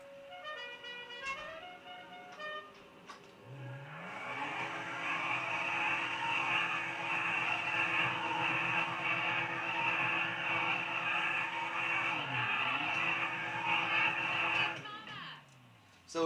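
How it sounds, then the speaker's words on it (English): A car burnout, with a long sustained horn blaring loud and steady over a revving engine and tire noise, the tone dipping near the end before cutting off. "But here's the horn and tire smoke."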